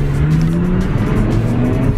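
Supercar engine running in quiet mode while driving, a low, steady drone with a slowly rising tone and light road noise, heard from inside the car.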